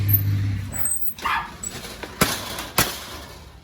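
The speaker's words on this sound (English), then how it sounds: "The dog's going to be barking through the whole thing." A dog barks nearby while a screen door is unbolted and removed at a house. It gives a few sharp, loud barks with soft whimpering between them.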